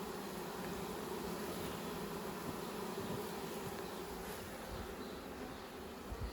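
A dense, steady hum of a honey bee swarm, many bees buzzing together, continuous and even, filling the space with no voices.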